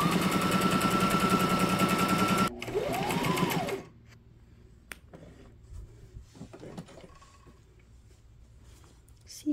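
A Brother SM2700 sewing machine stitches a small napkin in a fast, loud, even run of needle strokes that stops abruptly, then slows briefly before falling silent. Faint handling clicks follow.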